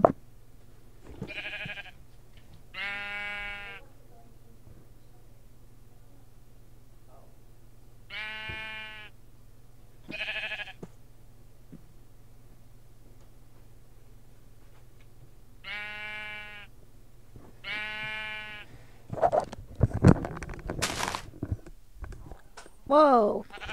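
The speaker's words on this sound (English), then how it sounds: "That sheep." Several sheep bleats from a Minecraft game, spaced out in short bursts over a low steady hum, with a person's exclamations and clattering toward the end.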